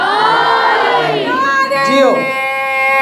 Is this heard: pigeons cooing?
no